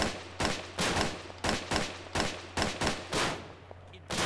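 Rifle fire in the video game Arma 3 comes as about a dozen sharp, close gunshots in uneven single shots and quick pairs over a low steady hum.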